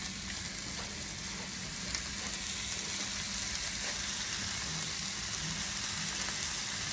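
Beef, bell pepper and broccoli stir-fry sizzles steadily in a hot pan, a dense, even crackle of frying with faint stirring clatter, close and continuous with no talk.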